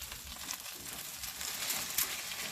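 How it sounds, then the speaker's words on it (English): A half rack of lamb sizzles in a pan after being flipped, a soft, steady frying hiss with faint crackles and a brief scraping rustle near the end, quiet and close. "Okay, so I flip it over carefully."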